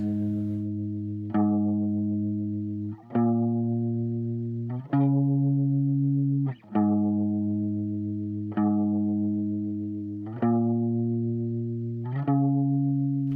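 Electric guitar with chorus and echo effects repeats a plucked chord pattern every couple of seconds, each strike ringing out and slowly fading.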